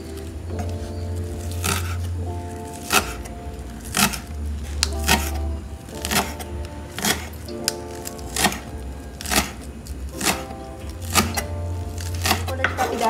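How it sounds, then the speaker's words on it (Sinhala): A knife chops spring onions on a board in a series of crisp, regular thuds, roughly one per second, with a low hum running in stretches beneath. "ඔව් දැන් අපි කපනවා ලුණු කොළ ලුණු කොළ"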